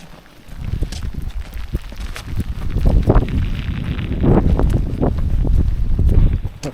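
Strong, gusty wind blows outdoors at a rainy truck bed campsite. It buffets the microphone with loud, rumbling surges that swell and ebb over several seconds.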